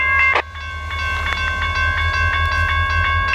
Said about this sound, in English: he then directs the engineer to start shoving the train back.